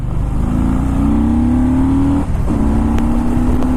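Harley-Davidson Fat Boy S with the Screamin' Eagle 110 engine accelerating hard, a loud steady engine drone rising in pitch, a brief gear-change dip, then climbing again, heard close from the rider.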